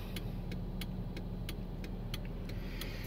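A 2006 Mercedes-Benz CLS500 V8 idles quietly, its low steady hum running under a regular series of sharp ticking clicks spaced about a third of a second apart.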